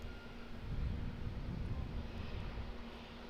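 A Jetstar airliner taxiing for departure at Auckland Airport gives off a steady, distant low engine rumble with a faint whine, broadband and constant, with some wind noise across the microphone.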